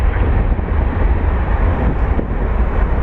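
A McDonnell Douglas MD-11 heavy jet at Toronto Pearson airport gives off a steady, loud broadband engine roar with strong low rumble, continuous throughout with light wind buffeting.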